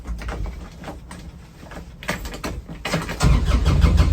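A Corvus UTV's diesel engine cranks and sputters, then catches and settles into a loud, rough rumble up close.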